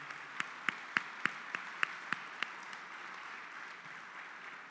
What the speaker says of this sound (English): So let's give one more round of applause to Tim and the family.